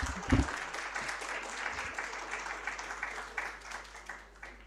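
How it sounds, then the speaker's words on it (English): Audience applause at the India Scale-Up Summit, an even wash of clapping that holds steady and fades slightly, fairly distant and soft. "a huge round of applause for Tithi"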